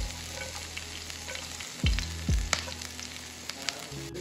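Ginger and chopped garlic drop into hot coconut oil in a pan for a Kerala beef fry, setting off a quiet, steady sizzle with two brief thumps and light stirring clicks.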